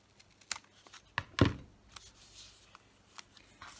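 Scissors cut through paper for a small junk journal booklet, a few quiet snips and papery crackles with one louder crunch in the middle, close up with no talking.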